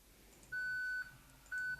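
A beeping sound asset played back in Blender: two sustained electronic tones, each about half a second long, separated by a short gap, clear over a faint background.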